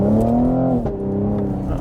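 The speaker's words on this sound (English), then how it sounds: "Exhaust sounds good," A 2020 Cadillac CT5-V in track mode accelerates hard, its exhaust giving a loud, rising growl that swells, briefly dips and then carries on, heard up close from inside the car.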